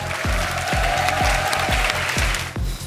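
A studio audience at a Korean TV comedy show applauds as all contestants are called to the front, a steady wash of clapping with rhythmic accented beats over a continuous musical drone, fairly loud and sustained.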